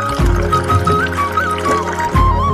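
Drinking water poured from a tap at a roadside stall, a steady splashing trickle heard over strong low hum and tonal music for the whole stretch, fairly loud and close.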